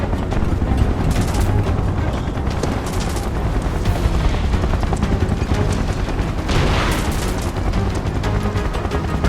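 Soldiers open fire in Final Fantasy VII Remake: sustained, loud bursts of gunfire and booms run throughout, with rapid automatic shots layered over heavy impacts.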